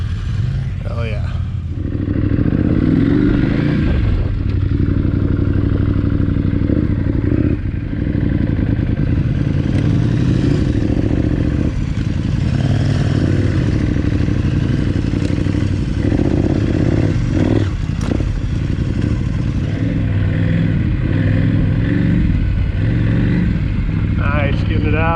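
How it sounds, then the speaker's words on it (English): Adventure motorcycle sliding its back end around on dirt during enduro training, the engine revving and bogging in waves with clattering and scraping from the loose ground, close and loud throughout. "sliding that back end around a little bit, getting the feel for the bikes and what they want to do"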